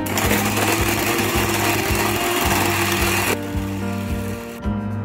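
An electric hand mixer whirs steadily as it beats pineapple cake batter, a loud continuous motor hum with a rhythmic knocking of the beaters, shifting tone partway through.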